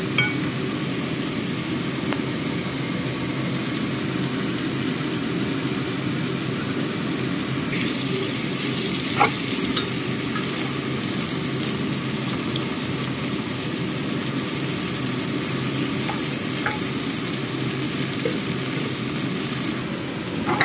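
Peanuts and anchovies fry in a pan with rice wine added, giving a steady, even sizzle with a few faint clicks and no speech.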